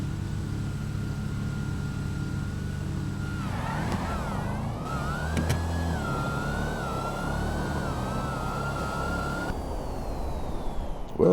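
Two Dodge Hellcats drag race in GTA, one of them black. Engines rev up in rising, whining pitches and then hold a loud sustained roar, with a siren-like tone and a change in the mix near the end.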